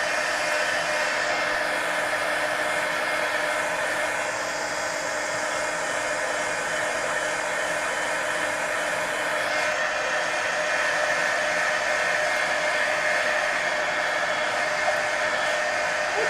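A hair dryer runs steadily at close range for the whole stretch, a loud, even blowing whir drying a page of a coloring book, with no speech.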